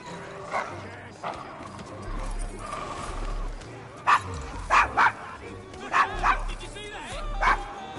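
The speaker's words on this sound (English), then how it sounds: "Is your dog quite all right?" A dog barks in short, repeated yips in a Victorian London street scene from Assassin's Creed Syndicate, with horse hooves clopping in the background and voices talking over it.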